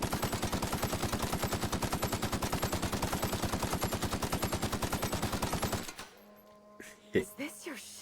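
Video game gunfire in The Outer Worlds: a sustained automatic burst of rapid, evenly spaced shots lasting about six seconds, loud and close, then cutting off to a few scattered quieter clanks and thuds.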